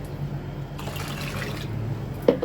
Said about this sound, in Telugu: వాటర్ పోసి క్లీన్ చేశానండి 2 సార్లు.